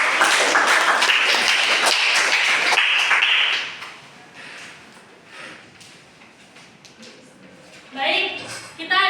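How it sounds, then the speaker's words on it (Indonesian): Classroom applause during a micro-teaching lesson, loud dense clapping for the first three and a half seconds, then fading to quiet room noise with a brief burst of clapping or tapping near the end. "boleh beri tepuk tangan untuk teman-teman"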